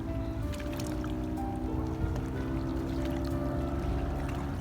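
Small boat moving on a calm freshwater lake in northern Norway, with steady soft water lapping and swishing along the hull and faint engine hum beneath.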